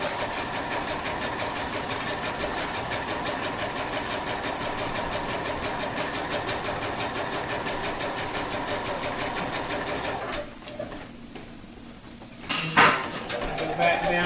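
A sewing machine running steadily during free-motion quilting of a quilt border, with a constant close mechanical whir that stops near the end, followed by a few clunks and handling noises.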